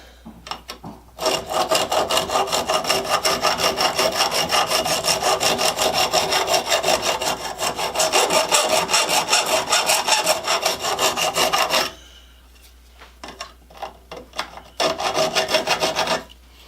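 A hand file sharpens a chainsaw chain with a fast, steady rasping rhythm of back-and-forth strokes that runs continuously for about ten seconds, stops, then resumes in shorter, choppier passes.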